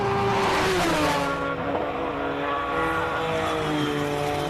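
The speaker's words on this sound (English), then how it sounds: "the car sounds like it misfires so badly" A race car at a hillclimb runs loud and close with a rough, misfiring engine note that stutters as it climbs, steady in level throughout with no talk.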